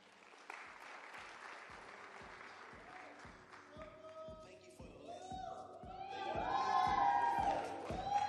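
A crowd at a Casual Day 30th anniversary celebration applauds a performer named Daphne, a rhythmic clapping that swells into broader applause with whistles and cheers, heard at a distance over a steady thump and voices.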